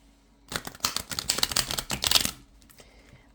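A deck of cards is shuffled nearby, a quick flurry of crisp riffling clicks lasting about two seconds between quiet moments.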